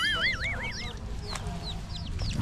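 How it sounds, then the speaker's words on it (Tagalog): Chickens clucking on a rural property in the Philippines, short squawks and honks in quick bursts, with a rooster-like call early on and outdoor background noise, fairly close. "Ito talaga mga manok na to, mapapatinola talaga kayo."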